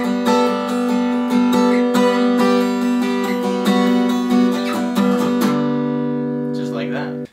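A guitar playing an intro riff in standard tuning, a run of ringing picked notes over sustained open strings, clear and close, fading at the end with no talking.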